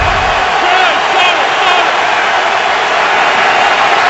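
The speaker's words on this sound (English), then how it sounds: "Crowd in full voice right now" Football stadium crowd at a Bears–Steelers game roaring loudly and continuously, a dense sustained wall of cheering and shouting.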